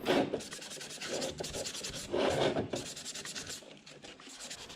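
Plastic car parts rubbed by hand with 400 grit sandpaper, a close, soft scratchy sanding in repeated back-and-forth strokes, with no voices.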